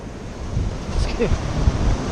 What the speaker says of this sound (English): Oh, I'm about to get covered up by the waves.